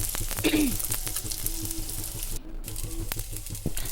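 Soaked sago and potato sautéing in a pan for sabudana khichdi, giving a gentle sizzle with rapid scraping stirs, a few sharper clicks, and a brief hush partway through.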